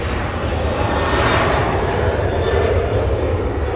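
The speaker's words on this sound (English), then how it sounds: "We'll stay with the 747." Boeing 747 jet airliner at Los Angeles International Airport, its engines a loud, steady, broad roar held without break, close and alone with no talk over it.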